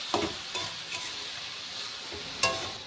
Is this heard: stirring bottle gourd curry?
yes